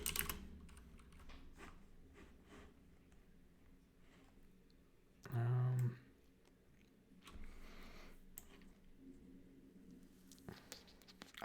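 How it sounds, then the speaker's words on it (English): Computer keyboard typing in irregular bursts of soft clicks throughout, fairly quiet, with a brief louder thump partway through; no talking. "I don't want to waste too much time typing this out"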